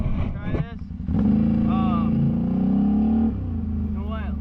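A 2022 XR650 motorcycle fitted with an STM primary clutch, white spring and stock secondary revs hard, its engine note climbing and holding for about two seconds before dropping back, close to the microphone amid some voice-like noise.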